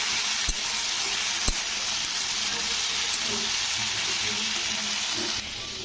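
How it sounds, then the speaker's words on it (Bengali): Potatoes and onions for aloo posto sizzle loudly in a pan, a dense steady frying hiss broken by two sharp knocks as the lid comes off and a spoon stirs, then the sizzle softens slightly near the end. "তো এবারে আমি ঢাকাটা খুলব তো ঢাকাটা খুলে এটাকে একটু নাড়বো"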